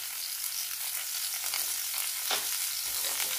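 Okra pieces fry in hot oil over raised heat, giving a steady, close hiss of sizzling with light crackles and no voices.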